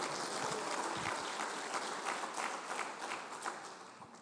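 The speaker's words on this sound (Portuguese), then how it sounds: "As palmas para o Senhor" Church congregation clapping during a Portuguese-language sermon, a faint, distant patter of many hands that thins out toward the end.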